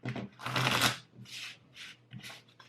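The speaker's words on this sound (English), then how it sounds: "Maybe we need another table shuffle." Tarot cards are shuffled on a table, heard as a series of close riffling swishes and soft slaps in uneven bursts, alone.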